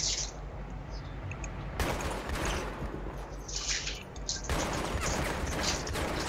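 Rapid bursts of automatic gunfire from a Battlefield 3 co-op mission, loud and dense with sharp crackling volleys throughout and brief pauses between strings of shots, no talking over it.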